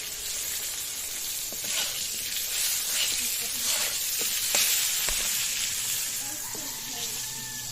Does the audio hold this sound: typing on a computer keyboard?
no